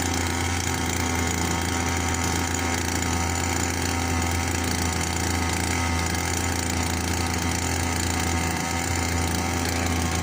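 A small string trimmer engine rigged as a boat motor runs steadily and loudly, with a buzzing, rattly drone that holds nearly constant throughout, close up and without speech.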